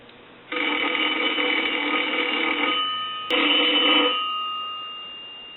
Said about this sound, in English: I want to go ahead and ring the telephone first.